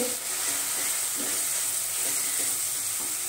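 Turmeric and coriander powder sautéing in a pan for potato bhaji, giving a continuous soft sizzling hiss with a few faint stirring scrapes, close and steady, no voices.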